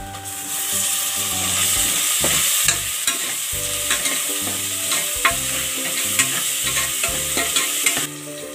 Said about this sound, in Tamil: தக்காளி எல்லாம் நல்லா வதங்கிருச்சு